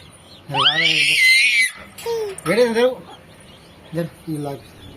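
A hen with a chick hatched that morning gives a loud, rising squawk, then a series of shorter clucks and calls at close range, separated by brief quiet gaps.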